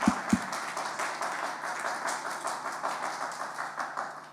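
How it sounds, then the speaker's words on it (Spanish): A church congregation applauding loudly together during a Spanish-language sermon, a steady, dense wash of clapping that runs throughout without a break. "Puedes dar un fuerte aplauso al Señor"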